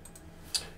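A single sharp computer mouse click on a save button lands near the end, short and close against a quiet room hum, with no talking.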